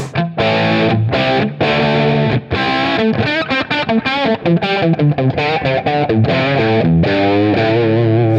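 Distorted electric guitar through a Line 6 Helix with the virtual mic pulled back 12 inches, chugging chords and quick riffs played loud and full, with brief gaps between phrases and no talking.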